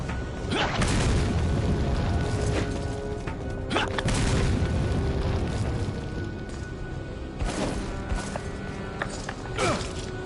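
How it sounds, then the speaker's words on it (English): A grenade explodes in the video game Resident Evil 4, with several heavy booms and crashing blasts spread across a loud, busy stretch of game noise. "And then he throws the grenade and you have to dodge it."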